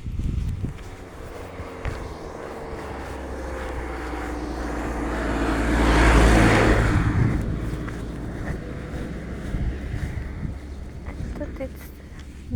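A car passes on a quiet rural road, its rumble swelling to a peak midway and fading away, with wind buffeting the microphone throughout.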